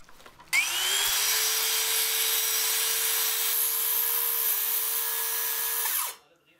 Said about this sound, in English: Circular saw is usually one of my go-to tools in the hack shack